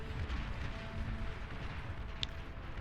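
Artillery fire rumbles across a large battle in the strategy game Beyond All Reason, a dense continuous barrage of low booms and distant blasts with no clear gaps.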